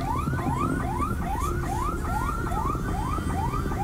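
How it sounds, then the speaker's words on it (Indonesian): An ambulance siren on the Lawang–Malang toll road in Indonesia wails in rapid repeating rising sweeps, loud and steady, with a rumble of traffic beneath it. "suara sirine terdengar pemirsa dari ambulans yang menuju ke lokasi kecelakaan maut"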